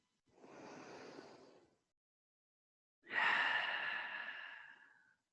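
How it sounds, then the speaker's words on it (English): Two slow, audible breaths during a guided yoga session, a softer breath followed after a pause by a louder, longer exhale that trails off, close and alone without talk. "Noticing what you feel as you exhale. Last round of breath here."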